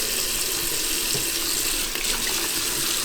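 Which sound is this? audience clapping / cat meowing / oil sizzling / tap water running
tap water running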